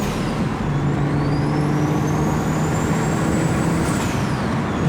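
A built N54 BMW 335i on the road, its engine giving a loud, steady drone with a firm low hum that holds throughout, with no talk over it.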